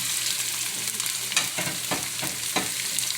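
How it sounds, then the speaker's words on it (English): Potatoes, onions and garlic fry in a pan with a continuous close sizzle, while several sharp scraping stirs of a spoon against the pan cut through over the second half; no one speaks. "So go ahead and add your potatoes and your onions and your garlic"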